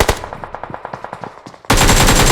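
Rapid automatic gunfire from PUBG Mobile rattles out in a quick string of about a dozen sharp shots, then gives way to a sudden loud, dense burst of noise.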